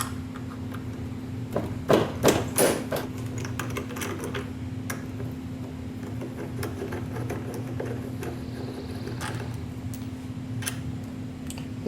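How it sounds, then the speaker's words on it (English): A 10 mm wrench clicks and ratchets in a short burst of metallic ticks as it loosens the front brake bolts on a scooter. A steady hum sits underneath, and no one speaks. "we're going to get a 10 millimeter wrench, and we're going to crack them loose"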